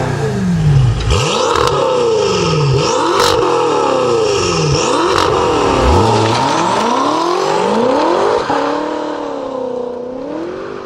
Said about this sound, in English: I can then open the valves up and bring the car to life